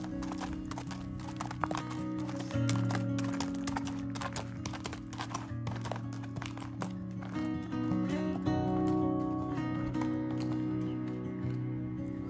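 A bay roan Quarter Horse's hooves clip-clop steadily while it walks and trots, the rhythmic beats fairly close and distinct over a constant low hum, with no talking.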